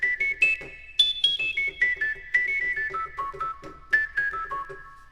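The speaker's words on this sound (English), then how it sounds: "So the last tonal sound was the elastic band of one of the face masks." Tones sampled from a face mask's elastic band and drenched in concert-hall reverb form a bright, bell-like synth melody of quick plucked notes stepping down and up, with faint thuds underneath.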